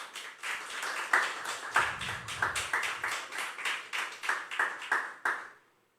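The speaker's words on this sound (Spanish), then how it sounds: "Apláudalo con ganas" A church congregation claps in a steady, rhythmic beat, loud and close, with a low rumble underneath through the middle, before the clapping stops abruptly near the end.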